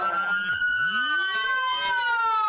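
A police car siren wails and sweeps up and down in a cops video game, loud and steady throughout, with harmonic tones gliding across the whole stretch.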